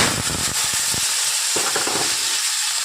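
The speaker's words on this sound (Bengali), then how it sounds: "দেখুন চিংড়ি মাছটা ভাজা হয়ে যাচ্ছে" Prawns fry in a small wok with a loud, continuous sizzle, broken by crackling pops and bursts of spattering oil.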